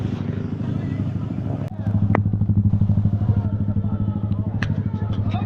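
A motorcycle engine revs up loud and close for street bike stunts in Jamaica, a steady droning roar that swells and holds, with voices shouting over it.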